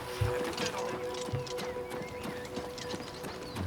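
Horse hoofbeats in The Elder Scrolls IV: Oblivion Remastered, a steady clip-clop over a continuous game background, with a few low thuds and faint voice-like sounds.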